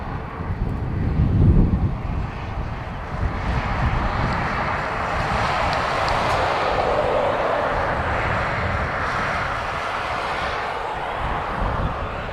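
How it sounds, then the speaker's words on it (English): An Air Canada Boeing 787 Dreamliner taxiing at Dublin Airport gives a broad, steady engine roar at moderate distance, mixed with gusty wind buffeting the microphone, with no talk. "Air Canada Dreamliner on taxi now as well"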